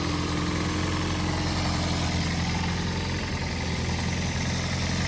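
A 2007 Toyota Prius with Hybrid Synergy Drive, its small petrol engine idling under the open hood, gives a steady low hum with a constant mechanical drone and no change across the whole span.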